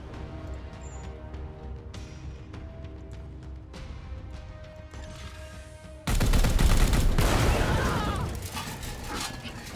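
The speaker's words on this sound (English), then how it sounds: "Alright, Morgo, shoot this guy point blank for me." Gunfire in the Chaos Gate: Daemonhunters video game: scattered sharp shots over a steady backdrop, then a loud sustained burst of heavy firing and crashing takes over for the final seconds.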